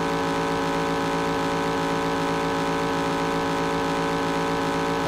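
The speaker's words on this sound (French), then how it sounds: "le son du moteur continue pendant la pause." Looping car engine drone from a PlayStation 1 racing video game, a steady, buzzy mid-pitched hum with fixed tones that never changes in pitch or loudness and runs without pause, with no voices.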